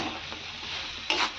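Potato, peas and cauliflower with masala are stirred in a pan, giving a soft continuous sizzle close by and a brief louder scrape near the end.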